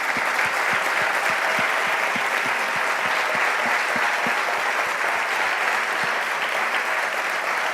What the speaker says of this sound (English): I would like to thank, with a big applause, to Professor Aspect.